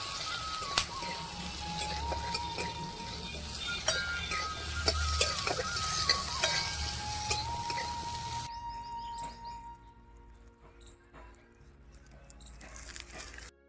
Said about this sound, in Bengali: সব দিয়ে দেবো, টমেটো, পেঁয়াজ, আদা, রসুন, হালকা করে ভেজে নেব